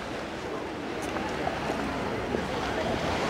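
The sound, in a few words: ocean waves breaking on the shore at Lyme Regis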